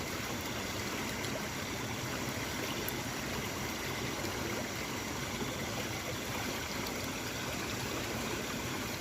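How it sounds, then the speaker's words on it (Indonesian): A river stream flows at night beside a riverbank, a continuous, even rushing and trickling wash of water with no voices. "Ini spotnya di sungai menurut saya."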